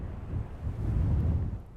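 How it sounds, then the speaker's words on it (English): Low, buffeting wind rumbles against the microphone in a steady gusty roar at an abandoned mine camp, with no voices. "besides the wind, it's quite windy and chilly today"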